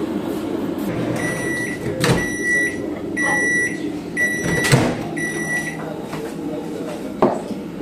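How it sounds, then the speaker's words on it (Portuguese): A microwave oven runs while warming bread for a sandwich, its steady hum repeatedly interrupted by clicks, clunks and a pattern of high beeps, with kitchen handling noises around it. "Aí eu dou uma esquentadinha nisso aqui, no micro-ondas."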